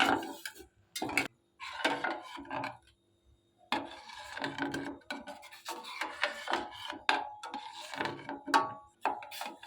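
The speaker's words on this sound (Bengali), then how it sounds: "এইভাবে ক্যারামেলটা ভালো করে দুধের সাথে মিলিয়ে নেব" Intermittent scraping and rubbing strokes from stirring caramel into milk in a pan, with soft clinks between short pauses.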